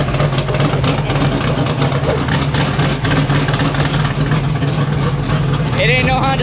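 A NASCAR Whelen Modified race car engine runs loud and steady in the pits at Seekonk Speedway, a dense throbbing rumble with voices over it.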